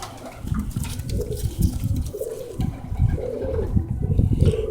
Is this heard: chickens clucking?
no